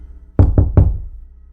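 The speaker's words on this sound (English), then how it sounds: "3 soft knocks." Three soft knocks on a sealed upstairs door in a secondhand Thai house, evenly spaced in quick succession, each with a short dull decay, standing alone against a quiet room.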